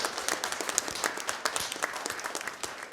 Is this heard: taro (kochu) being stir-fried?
no